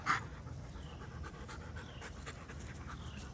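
Dogs pant steadily at close range beside a house where roller pigeons are being flown, a rapid breathy rhythm running the whole time without any talk.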